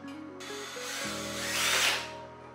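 A power drill runs while a desk is being assembled, a short whining burst that rises and then settles, heard alone at close range.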